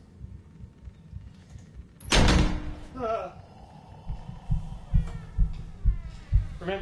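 A heartbeat effect from the Syrinscape Haunted House sound set, layered over a deserted-house ambience: a creaking, door-like swell comes first, then soft, low thumps settle into a steady pulse and continue to the end.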